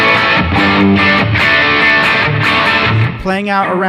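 A Gibson Les Paul electric guitar rings out with sustained, washy chords soaked in reverb, loud and continuous, ending with a shimmering tail.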